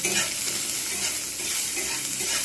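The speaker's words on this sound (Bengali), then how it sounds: "এই তেলেতেই দিয়ে দেবো পেঁয়াজ পেঁয়াজগুলো কিন্তু সফট করে ভেজে নেবো" Sliced onions fry gently in hot oil for a bread pulao, giving a steady, close, even sizzle with faint stirring throughout and no voices.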